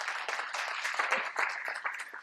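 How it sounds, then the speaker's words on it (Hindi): Audience applause for a professor at a talk, a steady wash of many hands clapping that holds fairly evenly for a couple of seconds at moderate distance, with no voices over it. "एक जोरदार ताली मैं चाहूंगा सर के लिए"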